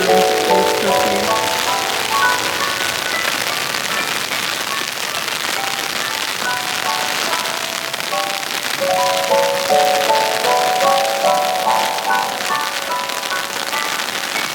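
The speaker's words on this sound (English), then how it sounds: "Rain come down, boy." Steady rain falling outdoors on a garden plot with transplanted squash, a dense continuous patter of drops on surfaces throughout, with faint tonal sounds in the background and no talking.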